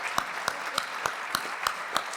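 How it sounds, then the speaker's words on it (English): Applause from the audience at a Durham Chamber of Commerce annual meeting, heard as steady, fairly faint clapping in which a few individual claps stand out at regular intervals. "Let's give them a huge round of applause."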